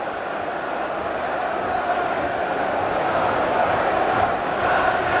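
A large football crowd at a Liverpool versus Manchester United match in 2005–06 roars and jeers at Neville, a dense sustained wall of voices that swells slightly, with a commentator talking over it.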